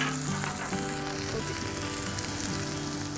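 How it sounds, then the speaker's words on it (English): Mushrooms sizzling on a hot Blackstone griddle as they are moved around, a steady loud frying hiss with faint scraping, close and continuous. "Move these mushrooms around a little bit."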